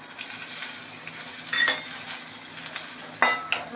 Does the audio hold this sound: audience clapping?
no